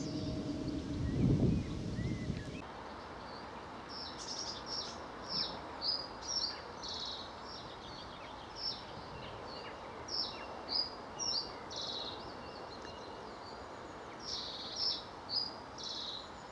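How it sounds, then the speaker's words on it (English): A warbler sings from within a willow beside wheat fields on a countryside walk, its short high chirping phrases repeating at intervals over soft wind, with a louder rumbling passage at the start. "there's a warbler of some description in amongst that willow there."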